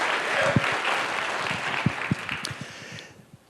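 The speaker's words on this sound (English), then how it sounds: "give yourselves a round of applause." Audience applause at a live storytelling show on mental health, clapping that starts full and gradually thins, with a few louder individual claps standing out before it dies away.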